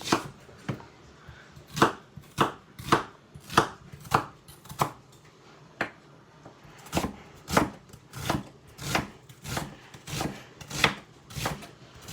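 Kitchen knife chopping celery on a cutting board while making chicken noodle soup, a steady run of about twenty crisp, close chops in an uneven rhythm with short pauses, no talking.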